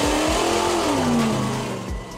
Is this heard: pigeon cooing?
no